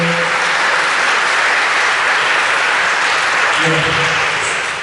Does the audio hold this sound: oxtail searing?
no